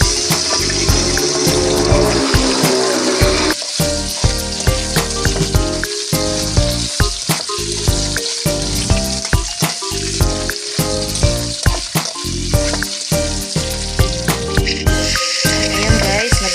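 Potatoes and carrots sizzle loudly in hot oil, in oil already used to fry fish, with a steady crackling hiss and frequent sharp pops and spatters throughout, close up with no talking.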